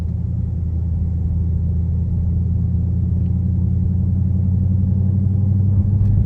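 A 2023 Dodge Charger Hellcat Widebody's engine gives a deep, steady rumble while cruising, heard from inside the cabin as a constant low drone with little change in pitch and no talking.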